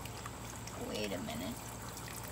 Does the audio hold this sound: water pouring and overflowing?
yes